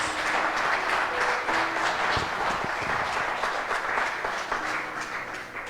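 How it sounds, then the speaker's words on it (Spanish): A church congregation gives strong applause to God during a sermon, dense continuous clapping with some tonal voices or music mixed faintly underneath, easing slightly at the end. "Dale fuerte ese aplauso a papá Dios."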